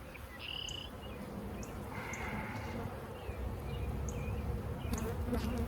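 Honeybees buzzing around an open hive during an inspection, a dense, continuous hum close by with individual bees flying past in brief higher-pitched whines.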